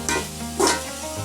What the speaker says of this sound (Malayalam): ഉമ്മച്ചി ബിരിയാണിക്ക് വേണ്ടിയിട്ട് സവാള വറുത്തെടുക്കാനുള്ള പരിപാടിയിലാണ്